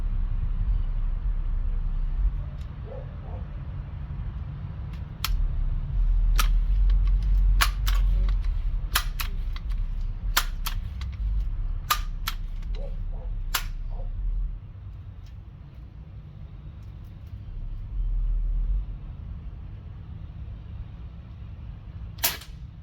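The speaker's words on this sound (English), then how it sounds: "I think that was 4 shots." A Crosman Legacy 1000 air rifle fires pellets: a handful of sharp, dry cracks spaced a few seconds apart, each followed by brief cocking and handling clicks over a low rumbling room hum.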